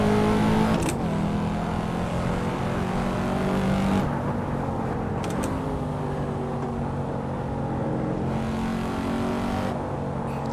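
Corvette C4 ZR1 V8 in an Assetto Corsa racing game drones steadily at cruising revs, loud and continuous, with a few brief gearshift breaks where the engine note drops and picks back up.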